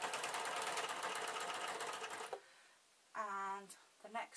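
A sewing machine stitching Vax mop replacement covers, a rapid close mechanical clatter for about two seconds that then stops, followed by a short stretch of talking.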